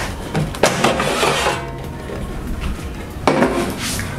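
Sweet snails are tipped into a large air fryer basket, giving loose clattering and rattling of shells against the metal mesh, with a couple of sharper knocks, close and fairly loud.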